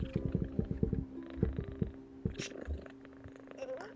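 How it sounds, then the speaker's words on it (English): A cat purrs close by in a steady rumbling drone, with low thumps and tonal voices during a tabletop role-playing session. "This is not the time to be purring."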